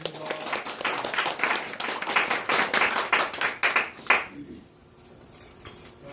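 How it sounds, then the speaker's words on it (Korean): An audience at a forum claps in a brisk, rhythmic burst of hand claps for about four seconds, then it stops abruptly into near quiet. "박수 한번 보내주시오"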